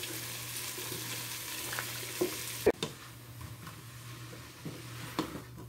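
Cabbage sautéing in a pan gives a steady close sizzle, with a few sharp scrapes and taps of the stirring utensil against the pan, one louder clack near the middle.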